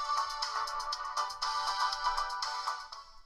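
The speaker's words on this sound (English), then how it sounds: "This is a song. This is just gonna test the speaker." A preloaded song plays through the small built-in speaker of a fake iPhone 6 Plus, thin and tinny with a quick rhythmic pulse, faint and steady, with no talking over it.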